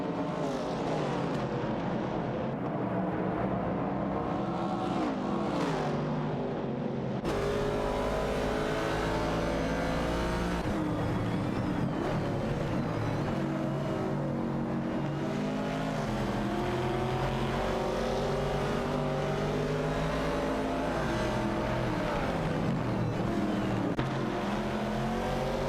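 Race cars in a racing game accelerate and pass one after another, a long, loud stretch of layered engine whines rising and falling as cars shift and sweep by, no talking.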